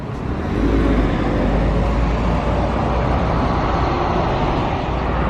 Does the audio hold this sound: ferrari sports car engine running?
yes